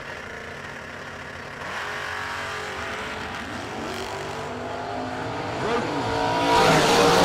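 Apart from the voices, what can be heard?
drag racing cars launching, S10 drag car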